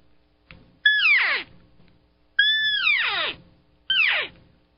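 Three high, squealing mews that slide downward in pitch, each about half a second long with pauses between, a voice imitating a cow elk's call.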